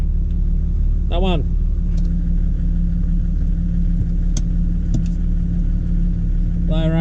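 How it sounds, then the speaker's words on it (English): Winch hauling an 80 series Land Cruiser up a muddy slope during flooding, a steady close mechanical drone and rumble running throughout, with someone speaking briefly over it. "We gotta use the winch to pull ourselves up."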